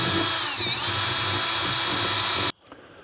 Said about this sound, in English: I'm just putting a couple of screws in it to hold it from flopping down.